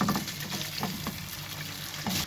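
Handmade Punjabi vermicelli (seviyan) frying in desi ghee: a soft, fairly quiet sizzle with a few light stirring clicks and no voices.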